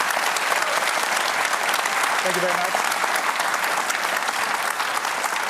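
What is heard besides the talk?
audience applause at Q&A panel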